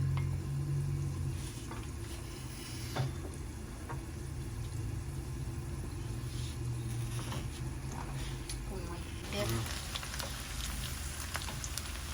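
Garlic frying in mustard oil for a naga chili pickle, giving a soft, continuous sizzle over a steady low hum, with a few occasional clinks and stirring sounds, moderately quiet throughout.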